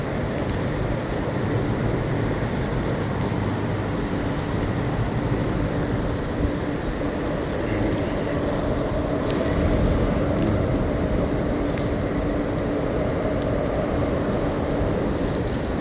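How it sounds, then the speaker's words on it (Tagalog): Steady rain pattering on a hard surface, a dense continuous hiss with no voices, holding even throughout. "patila na rin po ang ulan"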